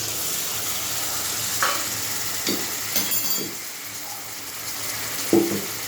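Mustard seeds, white mustard, green chili and tomato frying in a pan, a continuous loud sizzle with occasional stirring scrapes and small knocks.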